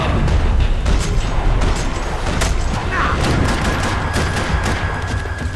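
Dense gunfire in the video game Max Payne 3, aimed at a sniper: a steady loud barrage of shots and booms filling the whole stretch with little pause.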